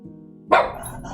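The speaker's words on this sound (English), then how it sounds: "Coco, why are you barking?" A single sharp bark from a dog indoors in a home, loud and close, rising abruptly after a low background hum and trailing off quickly, with no talking over it.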